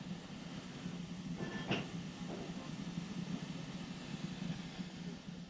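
Standard 5 steam locomotive running, a steady low rumble and rolling rail noise that holds throughout with a brief higher clank near the start, moderately loud and without voices.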